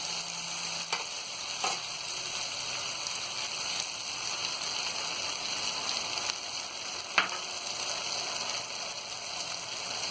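Gravy with dissolved tomatoes fries steadily for egg biryani, a constant close sizzle with a few soft stirring clicks and no talk.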